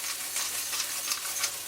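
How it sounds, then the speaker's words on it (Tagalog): Chicken adobo with vinegar, dark soy sauce and black pepper sizzles in a pan while being stirred, a soft steady frying hiss with faint scraping strokes, close and quiet, no voices. "Give it a stir."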